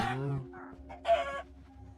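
Minecraft chickens clucking and squawking in a game chicken cooker, several short bursts of calls in quick succession, fairly close and clear.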